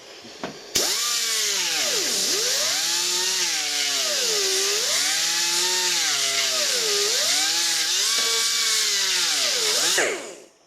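A carbide burr in a power tool opening up a hole, a loud close high-pitched grinding whine that swoops up and down in pitch as the load changes, running steadily for about nine seconds before spinning down.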